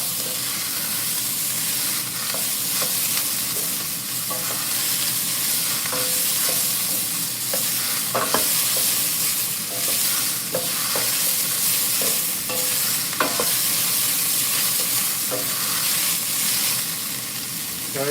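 Red onions, ginger, garlic and green chilies fry in hot oil for a chicken curry, a loud, steady sizzle with repeated scrapes and taps of a spoon stirring the pan up close.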